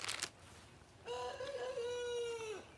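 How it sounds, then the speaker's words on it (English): A rooster crows once, a long drawn-out call at moderate distance, following a brief burst of noise. "Shut up, rooster."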